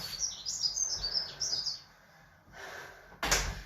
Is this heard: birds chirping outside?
yes